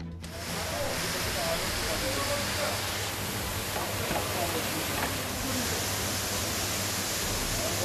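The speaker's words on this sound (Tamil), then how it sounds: "குஜராத்தில் தொடரும் கனமழையால் ஆறுகள் அருவிகளில் ஆர்ப்பரிக்கும் வெள்ளம்." Flood water roaring through rivers and waterfalls during heavy rain in Gujarat, a dense continuous rushing roar that stays loud and steady throughout.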